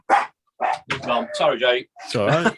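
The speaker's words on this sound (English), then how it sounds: "That's my dog barking." A dog barks several times in quick, close bursts, mixed in with a man's speech indoors.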